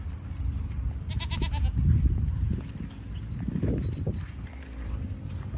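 A lone goat tethered on grassy ground calls out with a few bleats, moderately close, over a steady low rumble of outdoor background noise.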